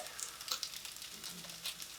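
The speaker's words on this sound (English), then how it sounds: "you hear that sizzling sound of your Spam?" Spam sizzles and crackles softly in a frying pan, a faint steady hiss with small pops, heard close but quiet.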